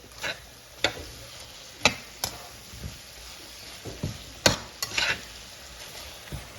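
A spoon stirs a pot of sausage, lobster, tomatoes and okra, giving sharp scattered clinks and scrapes against the pot over a low sizzling simmer, close and uneven, no talk.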